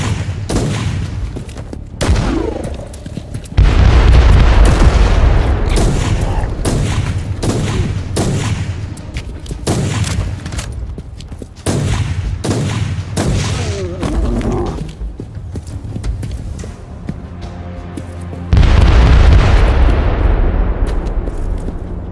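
Mortar artillery barrage in the Warhammer 40k Inquisitor Martyr game on the Tartarus IV battlefield: loud, repeated explosions and booming blasts with crackling gunfire, coming in dense bursts and volleys throughout, no talk.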